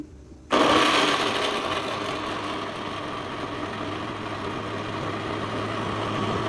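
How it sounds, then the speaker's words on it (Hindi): A kitchen grinder whirs steadily as it grinds ginger, garlic and green chillies, starting abruptly after a brief quiet moment and holding a loud, continuous motor drone to the end. "तो यहाँ पे मैं ग्राइंड करने लगी हूँ अदरक लहसुन।"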